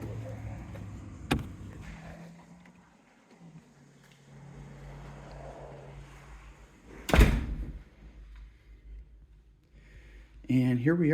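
A home's side utility door opens with a sharp, close thunk partway through, followed later by a shorter rattle. Someone talks quietly over a soft room background.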